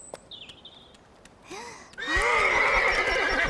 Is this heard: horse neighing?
yes